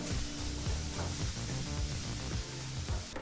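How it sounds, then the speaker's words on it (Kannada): Finely chopped onion frying on a medium flame gives a faint, steady, hissing sizzle that runs without a break, with no voices over it. "ಮೀಡಿಯಂ ಫ್ಲೇಮ್ನಲ್ಲೇ ಈರುಳ್ಳಿನ ಮೂರರಿಂದ ನಾಲ್ಕು ನಿಮಿಷ ಚೆನ್ನಾಗಿ ಫ್ರೈ ಮಾಡ್ಕೋಬೇಕಾಗತ್ತೆ"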